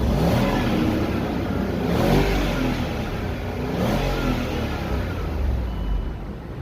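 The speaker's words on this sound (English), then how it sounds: "So we will rev the vehicle so you can listen to the V8 noise." A Range Rover Sport's V8 engine revs up and down in two or three swelling pulses, a deep steady roar heard up close with no talk over it.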